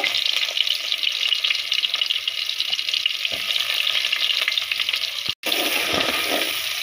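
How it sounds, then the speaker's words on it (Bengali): Chopped garlic and onion fry in hot oil with a steady, loud broadband sizzle as they are stirred, a brief dropout near the end before the crackling resumes. "এখন আম্মু পেঁয়াজ আর রসুনগুলোকে নাড়িয়ে চালিয়ে নিচ্ছে, লাল করে নিব"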